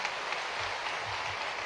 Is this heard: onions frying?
no